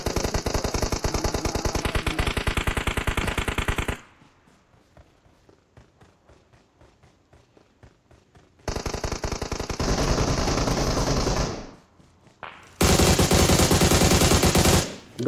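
Automatic gunfire in the mobile battle royale game PUBG Mobile comes in long, loud, rapid bursts. A quieter stretch of distant single shots and footsteps falls between them, followed by more sustained close fire.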